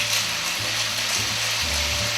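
Chicken pieces dropped into a hot pan with salt and pepper, giving a loud, steady sizzle and hiss that runs without a break through the short moment.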